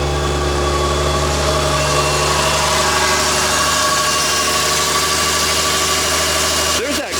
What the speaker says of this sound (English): There's that crazy noise coming from the That intake side.